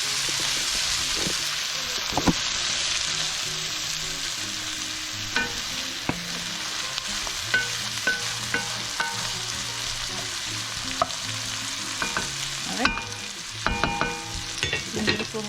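Shredded pumpkin fries in a hot pan, Guyanese-style. A continuous loud sizzle runs throughout, with irregular scraping and clacking as it is stirred and tossed, and no talk.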